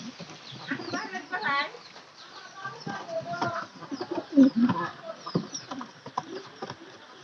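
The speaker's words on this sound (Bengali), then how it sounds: "যে বৃষ্টিতে ভিজে কি একটা অবস্থা হয়েছে দুইটা কবুতরের।" Two rain-soaked pigeons coo in low, uneven bursts over a tinny, muffled recording, mixed with clucking fowl nearby and a voice talking now and then.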